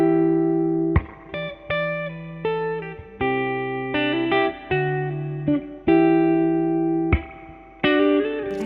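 An electric guitar played through a Fender Blues Deluxe amp with mono reverb from a single speaker rings out in sustained notes and chords, each decaying into a reverb tail, with no talking.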